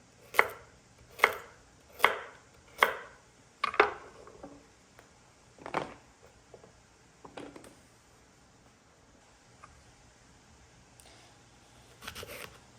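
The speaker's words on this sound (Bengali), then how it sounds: "এখন আমি এগুলি চাপ চাপ করে কেটে নেব, যাতে কাজের সময় খেতে সুবিধা হয়।" A knife chops food into chunks on a cutting board: about five quick, evenly spaced close cuts, then a few scattered slower strokes with quiet gaps between them, and no talking.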